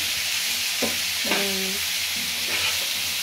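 Carrot, papaya and beans fry in oil for fried rice, a dense steady hiss up close with a few scraping stirs and brief squeaky utensil strokes against the pan.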